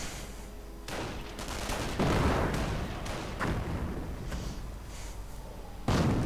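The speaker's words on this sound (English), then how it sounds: "Lots of mortar rounds going off." Mortar rounds exploding in a World War II strategy game, a run of heavy booming blasts overlapping one another, some near and loud, others duller and farther off, with no talking.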